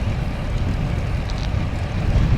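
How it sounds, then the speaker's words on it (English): Strong gusty wind buffets the microphone while cycling south on Ramsey Road, with steady low roaring rumble throughout and no voices. "Wind is 20 miles an hour with 29 mile an hour gusts"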